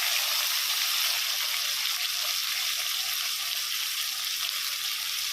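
Vegetable pieces for sambar being mixed with chili powder, salt and turmeric over a steady, close hiss of sizzling and stirring that continues evenly throughout, without talk.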